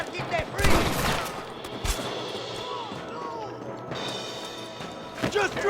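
Gunfire rings out in the Red Dead Redemption video game during a shootout at a bridge, with a few sharp, loud bursts separated by pauses over a noisy background, and voices speak in between.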